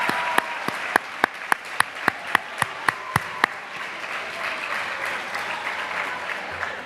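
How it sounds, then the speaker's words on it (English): Crowd applause at a school Celebration of Excellence awards night, with a few sharp individual claps standing out in a steady rhythm over broad, sustained clapping. "Let's give them a huge round of applause for pulling this all together."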